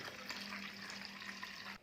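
Water poured into a bowl of tamarind juice for pappu charu: a steady, close trickling stream that runs continuously for under two seconds and then stops abruptly.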